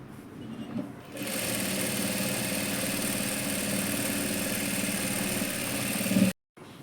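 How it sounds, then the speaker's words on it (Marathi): A sewing machine runs steadily for about five seconds, stitching a slanted seam into leftover fabric for a dress, then cuts off abruptly; a brief quiet start precedes the motor's even, continuous whir. "इथून आपण अशी शिलाई मारून घेऊया तिरकी"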